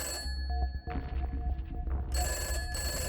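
A telephone bell rings in two clear bursts with a short gap between, close and fairly loud, with no voices present.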